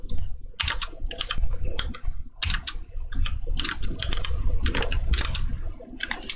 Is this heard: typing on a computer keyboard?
yes